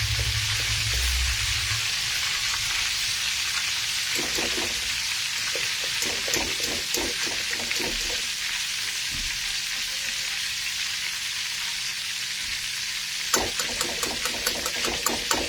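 Banana chips deep-frying in hot oil, a loud continuous hiss of bubbling close up, with brief crackling bursts and a few clinks toward the end.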